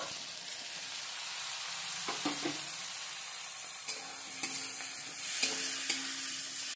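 Chopped tomatoes frying in a pan of moong dal base with turmeric, giving a steady sizzle with a few spoon-stirring knocks and scrapes, close and moderately loud, with no talking.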